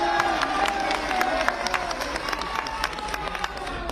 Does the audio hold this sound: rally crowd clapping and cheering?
yes